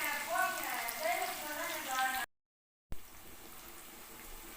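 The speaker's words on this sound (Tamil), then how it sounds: "இந்த வெங்காயம் வந்து நல்லா செவக்க நல்லா ப்ரௌனாக பொரியட்டும்" Onions fry in a pan with a steady sizzling hiss, broken by a short silent gap, while someone talks over the cooking.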